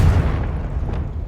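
A Confringo blasting spell detonates in Hogwarts Legacy with a loud, close, booming explosion that hits hardest at the start. A rumbling tail follows for about a second.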